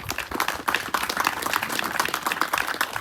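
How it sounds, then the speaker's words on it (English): Applause rises at an outdoor groundbreaking ceremony in Plainfield, New Jersey, a dense, steady wash of many hands clapping at moderate distance and holding even throughout. "So Mayor Mapp, I want to give you a hand clap for that"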